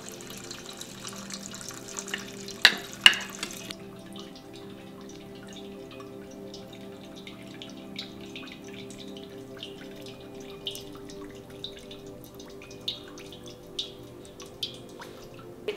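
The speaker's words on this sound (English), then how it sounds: "Hear it already coming out the bottom of the tincture press." Herbal tincture liquid dripping from the bottom of a tincture press, sparse faint drips and a brief louder splash early on over a low steady background hum, with no talking.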